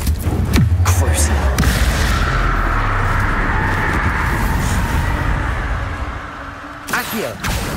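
The Confringo blasting spell from Hogwarts Legacy erupts in a loud booming explosion, followed by a sustained rumbling roar that fades toward the end, with a voice calling out at the start.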